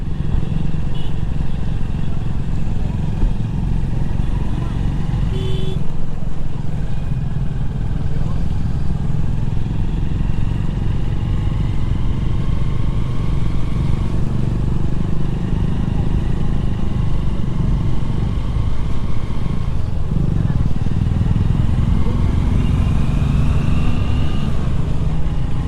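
Loud, steady idling engine rumble on a winter mountain road in Darma valley, Pithoragarh, where a long line of vehicles sits in a traffic jam, with continuous motor drone and wind buffeting close by.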